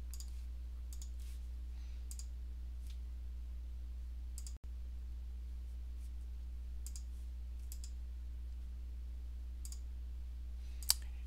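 A computer mouse clicks a few times to download a report from Walmart Seller Central, faint, sparse taps over a steady low electrical hum in a quiet room, with no talking.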